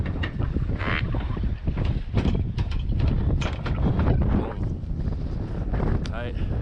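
Strong gusting wind buffets the microphone outdoors in North Dakota beside a truck, a loud rumbling roar that swells and dips, with someone talking over it.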